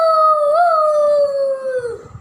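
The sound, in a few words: child imitating a jackal howl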